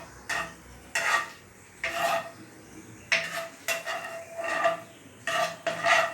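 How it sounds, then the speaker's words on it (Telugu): Tempering seeds crackle in hot oil in a pan while a spoon scrapes and stirs in short bursts, close up with quiet gaps between strokes and no talking. "ఆయిల్ వేసుకొని తాలింపు గింజలు వేసుకొని బాగా వేయించుకోవాలి"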